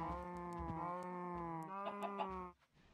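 Minecraft cows mooing, a sustained, close, tonal bellow lasting a couple of seconds with a second moo overlapping, then quiet.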